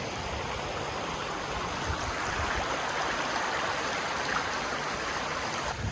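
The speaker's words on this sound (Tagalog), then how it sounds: "Pakinggan nyo yung agos ng tubig." Water in a natural stream flows steadily outdoors, a continuous, even rushing and burbling with no voices or other distinct sounds over it.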